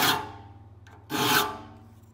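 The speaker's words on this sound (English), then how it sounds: "As I file the gullet, I'm filing the front of one tooth" A file rasps across the gullets of a crosscut hand saw's teeth during sharpening, two close, loud scraping strokes, each with a bright metallic ring trailing off.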